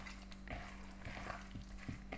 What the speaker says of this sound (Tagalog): Diretso lang siyang prito.